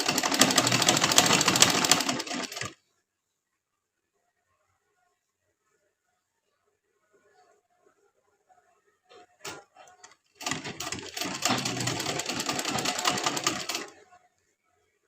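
An electric sewing machine stitching slowly in a beginner's tailoring lesson, running steadily for a few seconds, falling silent, then starting again with a few clicks before a second run.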